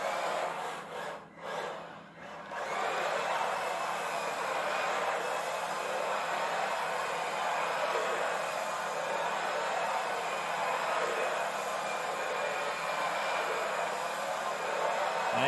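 A Kyosho Mini-Z MA-020 AWD RC car drifts at full throttle, its small electric motor giving a continuous high whine over a rough, hissing roar of tires on the surface, close and loud and sustained throughout.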